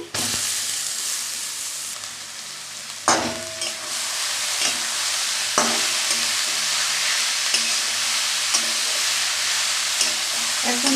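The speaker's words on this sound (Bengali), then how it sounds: "পেঁয়াজ রসুন এবার আমি বিটটা ছেড়ে দিচ্ছি" Beetroot is tipped into browned onion and garlic frying in oil, giving a loud, steady close sizzle broken by a few sharp bumps and scrapes of stirring.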